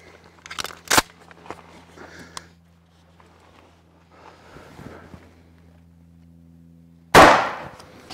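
A shotgun fires nine-pellet buckshot into ballistics gel, heard as one sharp, loud blast near the end, preceded by scattered clicks, clunks and handling noises over a low steady hum.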